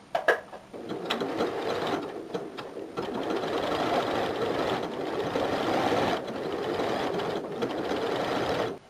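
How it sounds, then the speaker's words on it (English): A sewing machine runs a steady rapid stitch around an embroidery appliqué on a top, its whirring chatter continuous and close, pausing briefly a few times. "So here you can see now how I went with my machine with a nice stitch all the way around this application"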